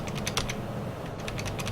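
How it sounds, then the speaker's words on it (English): Computer keyboard keys tapped during a flight simulator session, a quick run of crisp clicks, a short pause, then another cluster of keystrokes, close and clear. "think I can use the 1 and the 7 on the keyboard to do that"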